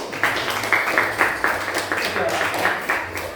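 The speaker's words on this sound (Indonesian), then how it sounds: "Tepuk tangan untuk Bias." A classroom group claps for a student in quick, rhythmic bursts, close and moderately loud, with voices mixed in among the claps.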